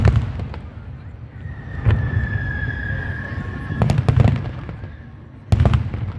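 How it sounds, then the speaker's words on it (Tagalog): Fireworks go off outdoors at a pyromusical competition by the seaside at Mall of Asia, Philippines: a long whistling streak, then sharp bursts and crackling pops at irregular intervals over a low crowd murmur. "Nakakamangha itong fireworks."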